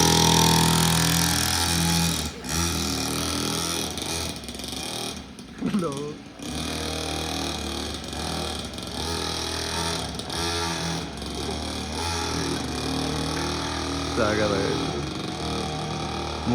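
A two-stroke mini bike engine runs continuously with a steady, buzzing drone that rises slightly now and then, heard under people talking nearby.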